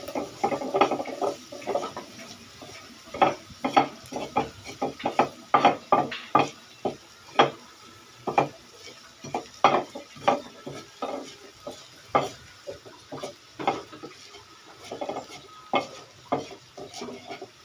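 Shrimp and onions get mashed and stirred in a pan, sounding as a run of sharp, irregular scraping and knocking strokes close by, with a faint sizzle underneath.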